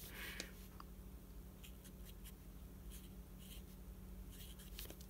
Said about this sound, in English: you just write them a little message underneath